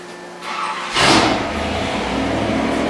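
A high performance engine on a dyno starts up with a burst of noise, then settles into a loud, steady running roar close by.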